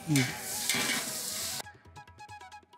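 Onions fry golden in a pan with coriander tossed in, a loud sizzle with stirring scrapes that abruptly gives way to quieter clinking and patchy cooking sounds.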